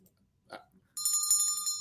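A bright, ringing bell sound effect plays on a live stream, sustained and fairly loud after a brief quiet voice.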